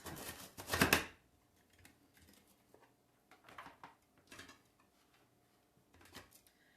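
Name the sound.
knife slicing vegetables into long slices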